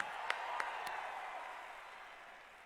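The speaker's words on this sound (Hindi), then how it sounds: "तालियों की गड़गड़ाहट से उनका हम लोग साधुवाद और धन्यवाद करें।" Audience applause at a Technocrats Group event in India, a faint spatter of claps at the start that quickly fades into a soft, dying wash of clapping.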